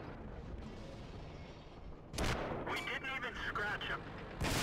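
Tank cannon fire in World of Tanks, a muffled rumbling backdrop that gives way to a sharp, loud cannon crack midway, followed by ringing reverberation and another heavy shot at the end.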